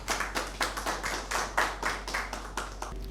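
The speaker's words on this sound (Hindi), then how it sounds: "आपकी भरपूर तालियों में" An audience at an Urdu poetry mushaira claps in a slow, even rhythm, roughly four beats per second, each clap distinct and moderately near, with a low steady hum underneath and no talk.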